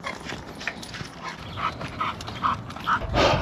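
A dog out on a walk outdoors in Edmonton, Alberta, gives soft whimpers and yips over faint background noise, with a brief louder rustle at the end.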